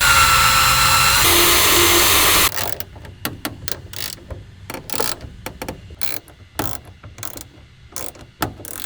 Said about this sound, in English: Just drilling some holes.